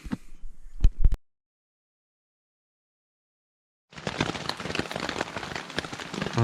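Light rain falling during a morning on the Lake Waikaremoana Great Walk, a soft steady patter with scattered drops, brief at the start, then silence, then returning as a continuous close hiss.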